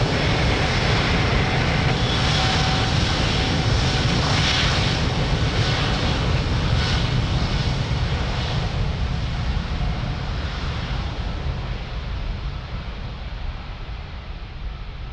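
An airliner takes off from runway 02 at Lisbon Airport with a loud, steady broadband engine roar that slowly fades as it climbs away.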